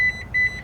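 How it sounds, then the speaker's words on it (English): A Lexus GX460 seat latching into position sets off a short electronic chime, two pairs of clear tonal beeps in quick succession, close and loud, with no voices. "they both beep whenever they're in place."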